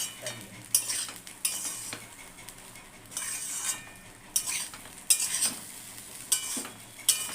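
A spatula scrapes and stirs a chicken, prawn and rice mix with onion in a frying pan, giving repeated bursts of metallic scraping over a faint sizzle, close and without talk.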